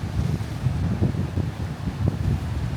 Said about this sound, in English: Awesome waves.